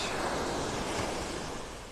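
Wind roars and waves crash on a beach in North Naples, Florida, making a dense, continuous rushing noise with heavy buffeting against the microphone. It stays loud throughout, and no one speaks.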